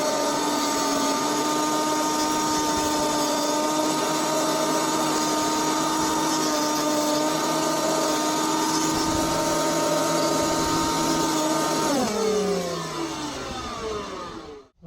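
A Titan thicknesser planer runs with a steady high whine while planing a piece of wood at half a millimetre, constant and loud, then winds down as the motor is switched off near the end.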